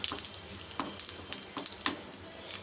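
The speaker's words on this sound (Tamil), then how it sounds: "கடுகு வந்து நல்லா வெடிக்க ஆரம்பித்தது" Mustard seeds crackle and pop in hot oil, sharp little bursts scattered irregularly over a soft, continuous sizzle.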